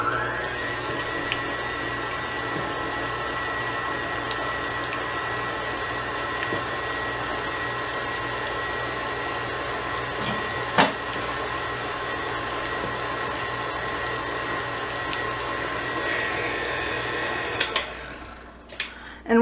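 An electric beater whirs steadily while mixing pumpkin pie filling, a continuous close motor drone lasting many seconds with a brief knock partway through, then cutting off near the end.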